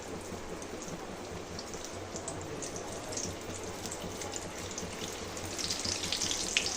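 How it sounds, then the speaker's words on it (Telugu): Kabuli chana chickpeas dropped into hot oil for deep frying, giving a steady fine crackle and hiss at low volume that thickens slightly toward the end. "ఆయిల్ అయితే హీట్ అయిపోయిందండి ఇప్పుడు ఈ శనగల్ని ఒకటి వేసుకోవాలి చూడండి ఇలా వేసుకోవాలి"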